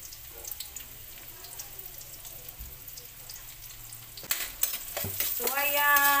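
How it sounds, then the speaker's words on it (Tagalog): Sautéed pork sizzling in a hot pan while being stirred, a steady low frying hiss that grows louder near the end with clattering utensil strokes, close up. "mag-umpisa na rin ako sa gisadong pork"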